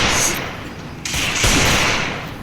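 Gunfire in a shooting video game, a dense burst of shots and thuds running through the whole stretch, loud and close with a sharp surge midway.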